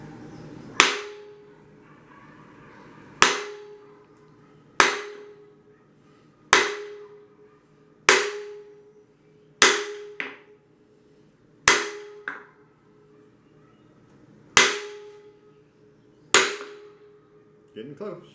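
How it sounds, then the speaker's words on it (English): Large hammer pounding a flat board to seat a seal into an engine block during a 360 engine build: about eight sharp, loud strikes spaced a couple of seconds apart, each ringing briefly, with a quick double hit near the end. "When you're hammering, listen to the sound."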